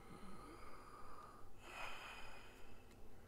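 Patient breathing in and out during a doctor's chest examination in Red Dead Redemption 2, a single faint, close, slightly raspy breath with a soft sniffing onset, heard alone.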